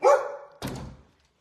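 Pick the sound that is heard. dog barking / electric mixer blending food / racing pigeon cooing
dog barking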